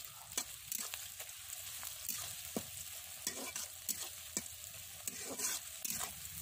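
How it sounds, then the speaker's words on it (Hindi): Chopped onions fry in hot oil in a kadhai with a steady close sizzle, broken by repeated sharp scraping strokes of a spoon stirring them, with no one talking. "सारा का सारा प्याज डाल के हमको अच्छे से चार से पाँच मिनट के ऐसे भुनना है"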